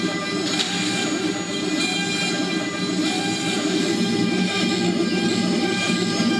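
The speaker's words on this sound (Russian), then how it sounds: "Ну вот мы наблюдаем, собственно, процесс чистовой обработки." A 1.5 kW spindle on a rail-guided CNC router makes a finishing pass with a 0.5 mm radius conical-ball end mill. It gives a loud, steady drone with a constant whine and no breaks, and no speech.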